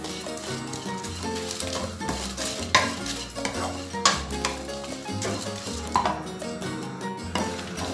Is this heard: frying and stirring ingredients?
yes